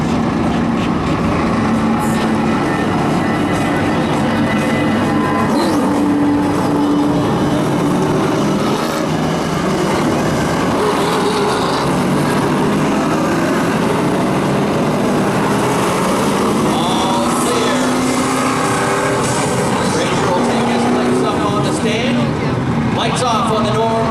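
Race cars roar around the oval at Wiscasset Speedway during the Boss Hog 100, a dense, continuous engine din with rising and falling whines as cars pass, loud throughout with a commentator's voice running over it.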